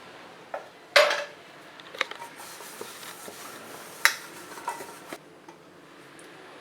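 A metal cake tin is greased with a spoon of oil, giving sparse clinks and scrapes of spoon against metal, a few sharper taps standing out against quiet surroundings, with no talking.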